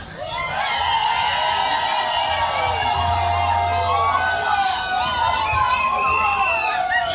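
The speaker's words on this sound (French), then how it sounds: "Crions plutôt, n'applaudissons pas s'il vous plaît." A large crowd shouts, whoops and cheers without pause at a 2023 university diploma ceremony, a loud dense roar of many voices rising and falling with no clapping break.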